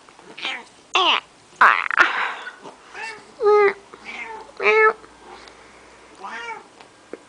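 A cat meows repeatedly up close, a series of short, varied meows with brief pauses between them in a quiet room.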